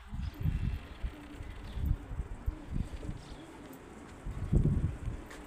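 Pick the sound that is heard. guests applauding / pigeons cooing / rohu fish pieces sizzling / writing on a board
pigeons cooing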